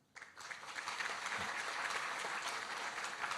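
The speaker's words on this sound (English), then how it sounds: "Everyone, please give a big round of applause." An audience at a policy speech by the President of Timor-Leste claps after a quiet start, building quickly into dense, sustained applause that stays even to the end.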